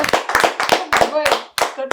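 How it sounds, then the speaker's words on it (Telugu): Several bursts of hand clapping at an interview, irregular and close, mixed with children and adults talking and laughing over them. "క్లాప్స్ కొట్టండి రా"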